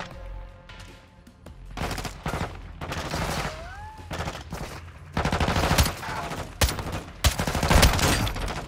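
Gunfire in the video game Call of Duty: Modern Warfare II, with repeated loud bursts of automatic fire and sharp single shots that come in clusters over a busy battle backdrop, growing heavier toward the end.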